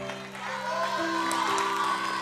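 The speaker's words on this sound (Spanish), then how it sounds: "Y Jorge Peso recibe un tremendo aplauso." An audience applauds contestant Jorge Pezo on the Chilean TV talent show Rojo, second generation, 2003. A steady wash of clapping and crowd noise runs throughout, mixed with sustained music.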